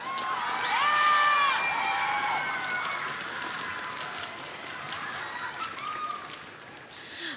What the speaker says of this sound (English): So cheer really loud in case they're in the building.